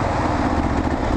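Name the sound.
Kawasaki KLR650 motorcycle engine barely chugging, possible fuel issue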